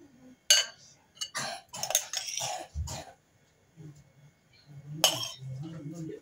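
Onion salad is spooned into a serving dish with a few sharp clinks of cutlery against the dish, separated by soft scraping and quiet handling, with a low voice murmuring in between.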